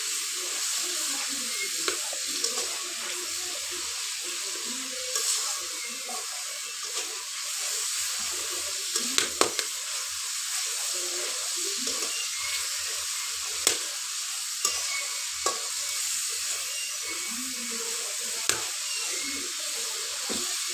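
Spices stir-fried in hot oil for a Bengali small-fish recipe with coriander leaves: a continuous close sizzle and hiss, broken by occasional sharp clicks and scrapes of a spatula against the pan, with no talking.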